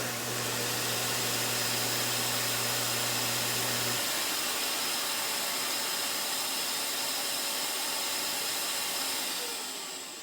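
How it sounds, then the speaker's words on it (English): A belt grinder and shop vacuum cleaner run together in a workshop, switched on at once, producing a loud, steady broadband roar and hiss with a low motor hum that drops away partway through. "It's going to turn on the belt grinder, the vacuum cleaner, and the light."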